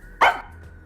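Single sharp bark from Sugar, a dog in the video game Rain Code, close and clear against a quiet background, followed by silence.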